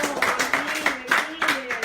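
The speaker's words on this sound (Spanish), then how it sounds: "Den un fuerte aplauso al Señor Jesús." A church congregation claps in uneven bursts, moderately loud and close, with a preacher's voice carrying on in Spanish over the applause.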